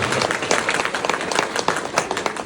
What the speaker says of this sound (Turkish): Bir alkış da Erzurumlar Derneği'ne yapalım.